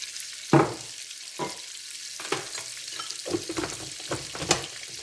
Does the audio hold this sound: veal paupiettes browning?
yes